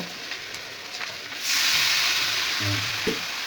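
Water poured into a hot frying pan of curry sets off a loud, sudden hiss and sizzle that stays strong and steady to the end, with a faint clink of a utensil near the close.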